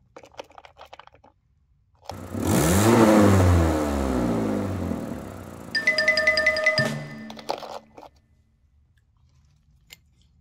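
A toy monster truck making a revving engine sound, a burst of rising and falling electronic motor noise that runs for a few seconds and is followed by a short beeping tune, close and otherwise quiet.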